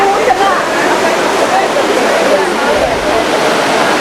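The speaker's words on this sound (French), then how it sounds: "Alors là, on tombe sur la fontaine de Trévi, l'emblème de la ville" Rushing water of the Trevi Fountain in Rome, a dense, steady roar of falling and splashing water heard close, with crowd murmur and voices blended underneath.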